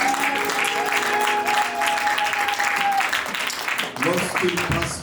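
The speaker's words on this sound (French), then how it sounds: "may we clap for them" A church congregation claps for the spiritual children, steady sustained applause throughout with a voice speaking over it.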